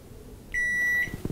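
A microwave oven's control lock button gives one clear, high electronic beep of about half a second, sounding close against a quiet room.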